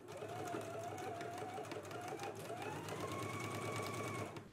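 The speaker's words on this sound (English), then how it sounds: "Let's go ahead and stitch it now." A sewing machine stitches a 5/8-inch seam in a garment, humming in a steady unbroken run of a few seconds, fairly quiet and close.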